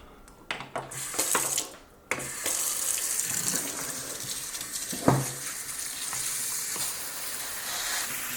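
Tap water runs steadily over tomatoes being rinsed in a sink, a continuous close splashing with brief knocks and shifts in flow as the fruit is handled.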